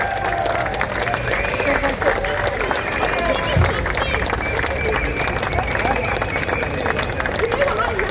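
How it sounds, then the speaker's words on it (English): Crowd applauding at an outdoor anti-chemtrail and geoengineering rally at Marble Arch, London, a continuous wash of clapping and crowd noise with a voice speaking over it. "Can we give them a round of applause as well?"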